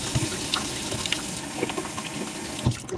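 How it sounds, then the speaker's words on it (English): Water runs steadily from a tap while hands are washed under it, a close, constant splashing hiss with small irregular splatters and no talking. "And before everything, we have to wash our hands."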